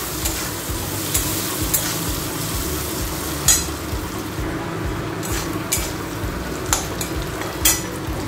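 Turmeric and ginger paste fry in oil in a pan with salted spinach greens to come, giving a steady close sizzle with occasional clinks and scrapes of stirring.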